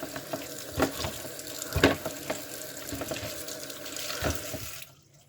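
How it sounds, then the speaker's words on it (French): Apples and pears being rinsed and rubbed under a thin stream of running tap water, with splashing and hand-scrubbing sounds through most of the clip before the water cuts off near the end. "bien frotter sous le filet d'eau."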